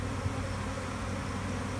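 A swarm of honey bees gives off a dense, continuous buzz close by, a steady droning hum with no pauses or voices.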